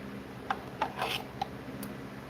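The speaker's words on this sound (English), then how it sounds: "It's a Griffette grinder that uses a jewelry bit that is shaped kind of like a top hat." A Griffette grinder fitted with a top-hat-shaped jewelry bit sizes a wire-wrapped ring, giving a few faint, brief scraping rasps over a quiet hum.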